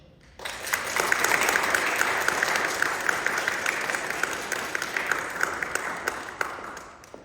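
A church parish audience claps warmly to greet a speaker, steady dense applause that swells in abruptly, holds for several seconds and fades near the end, filling the room without any voices on top.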